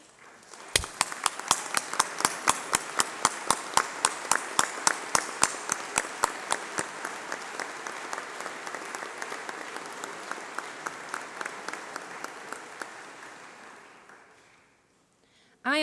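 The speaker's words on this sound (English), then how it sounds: "please could I ask you to stand up while we give you a round of applause" A large graduation-ceremony audience at UCLan gives a long round of applause for students' union members, dense, brisk clapping that rings out loud and full, then thins and fades away toward the end.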